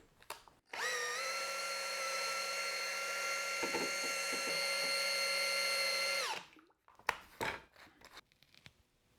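A power drill mixing ceramic slip in a bucket whirs steadily for several seconds at close range, then stops, followed by scraping and knocking sounds.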